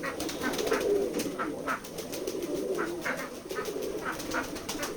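Pigeons coo steadily in a low, rolling murmur at a pigeon farm in Betikhola village, Keshabpur, Jessore, with several birds calling over one another at close range and occasional soft wing or shuffling noises.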